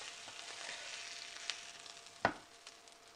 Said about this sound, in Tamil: ஸோ மீன் நல்லா ஃப்ரை ஆகிடுச்சு.